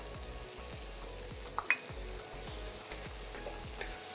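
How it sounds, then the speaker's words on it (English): Diced tomatoes sizzle steadily in a teaspoon of butter in a hot pan while bhindi masala cooks, a close, continuous frying hiss with faint periodic stirring scrapes and no talking. "1 teaspoon of butter, adding the diced tomatoes."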